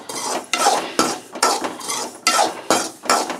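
Dry semolina (rava) being roasted and stirred in a pan, heard as repeated scraping strokes of a utensil against metal, about eight rhythmic sweeps over a few seconds, close and fairly loud with no voices.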